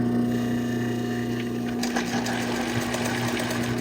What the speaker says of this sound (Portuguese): Então pode costurar, na hora que chegar na beiradinha, antes de chegar no final você